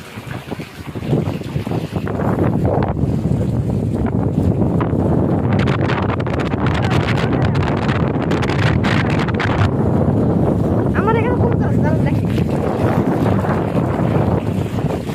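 Powerful wind from Cyclone Remal roars continuously, buffeting the microphone hard and drowning out everything else, with gusts surging throughout.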